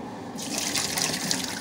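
Water from a Keurig 2.0 coffee maker pours steadily in a continuous splashing gush, close by, with no voices.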